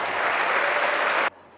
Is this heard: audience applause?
yes